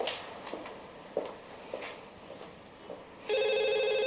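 A telephone rings indoors in a drama scene, a bright electronic trill starting late after a few soft footsteps and thumps, fairly close and alone without speech.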